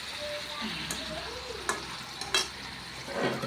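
Chicken curry frying in a pan with a steady low sizzle and a few sharp stirring clicks and scrapes, faint and close, no talking.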